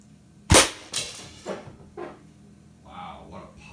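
A broadhead arrow shot from a 60-pound Black Swan bow strikes sheet metal with a loud sharp pop, followed by a few fainter knocks and rattles, then some brief faint voice sounds.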